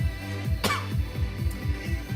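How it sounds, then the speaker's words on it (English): A single short cough bursts out once in the middle, close and fairly sharp, over a steady rhythmic pulsing backdrop of music. "I'm fine, except maybe this small little cough that is still there"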